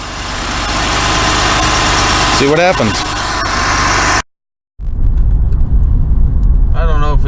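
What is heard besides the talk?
1991 Oldsmobile Cutlass Ciera engine warming up for test drive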